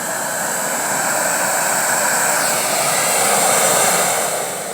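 A central vacuum system roars loud and steady after a metal, magnetic-catch Air-Flo/Filtex wall inlet is opened, a continuous whooshing rush of suction close by.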